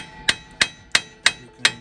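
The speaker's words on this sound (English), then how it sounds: "So the trick is to whack them just a little bit and be gentle with the hammer." Five sharp metallic hammer taps at an even, unhurried rhythm, close and clear, knocking the cone washers on a Toyota FJ45 solid front axle hub while freeing the birfield joint.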